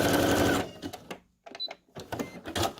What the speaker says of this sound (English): I'm going to run a little bit with a stitch over that to make sure that it stays.